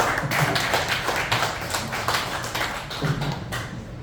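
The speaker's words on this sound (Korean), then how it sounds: "박수 한번 보내주시죠" Applause for a speaker at a Lions Academy monthly meeting and research presentation, a steady patter of many hands clapping close by for about four seconds, with no talking over it.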